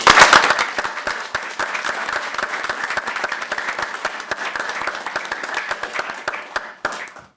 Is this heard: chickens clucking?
no